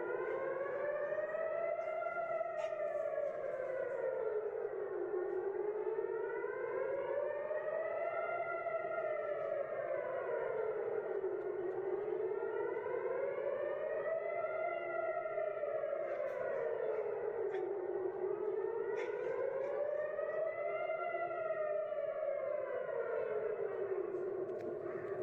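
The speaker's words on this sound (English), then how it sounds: "you can hear those loud sirens there" An air raid siren in Israel during missile attacks wails in slow rising and falling cycles, repeating steadily at a distance with no talking.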